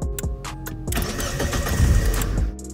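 A car engine cranks and starts after a start-stop button is installed, with a few clicks before a loud, close churning turnover that catches and settles into a running rumble.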